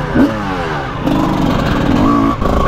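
A KTM TM 300 two-stroke enduro motorcycle engine revs close by, rising and holding a steady buzzing pitch with a brief dip, loud and continuous with no talk over it.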